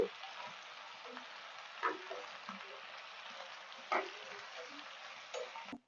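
Gongura leaves cooking in oil with salt in a pan, a faint steady frying sizzle with occasional soft clicks and stirring touches, no voices.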